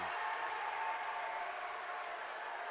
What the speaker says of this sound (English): Another great cheer from this Lynchburg crowd.